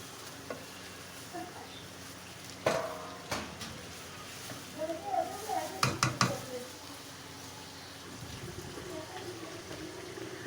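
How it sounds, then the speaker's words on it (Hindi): Chicken browning with masala in a pot for degi biryani: a soft steady sizzle under repeated metallic scrapes and clanks of a spoon stirring against the pan. "मसालों के साथ थोड़ा सा चिकन को भून लेंगे"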